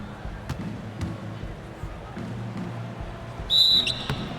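A referee's whistle in the NBA 2K17 basketball simulation of the Chicago Bulls at the New York Knicks gives one short, shrill blast near the end, rising over steady arena and court noise while a commentator talks throughout.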